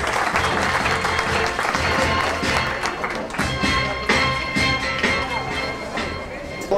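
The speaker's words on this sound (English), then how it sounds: "Give yourself a round of applause." A luncheon keynote audience breaks into sustained applause, many hands clapping densely and loudly for several seconds, with voices mixed into the crowd noise.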